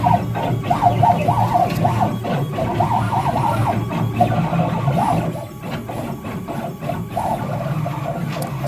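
A CNC drag knife cuts foam board, the machine's motors giving off a close, continuous whine of repeated warbling, siren-like tones over a low mechanical hum.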